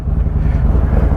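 A motorcycle fitted with a Khrome Werks Outlaw 2-in-1 exhaust gives a close, steady, deep rumbling drone throughout the short moment.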